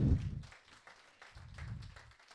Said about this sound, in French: les applaudissements deviennent un peu moins toniques